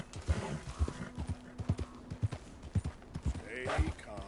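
A horse in the video game Red Dead Redemption 2 trots with regular clip-clop hoofbeats, and a whinny rises near the end, with a faint hum in the background.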